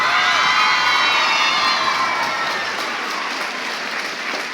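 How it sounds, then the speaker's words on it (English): A crowd at a Veteran's Day event claps and cheers for a singer, dense applause mixed with high whoops and shouts, loudest at the start and tapering slightly as it continues. "Also, we need a bigger applause for"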